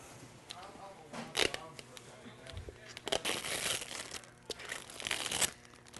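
Protective film peeled from a ChromaLuxe sublimation panel, giving close crackling, crinkling rips in uneven bursts that swell and fade over several seconds, with faint voice-like sounds in the background.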